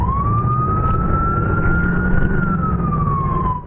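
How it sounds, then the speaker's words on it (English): An ambulance siren wails steadily and loudly through traffic, its tone rising and falling slowly over a rumble of road noise. "Sirens blaring behind you as an ambulance maneuvers through traffic."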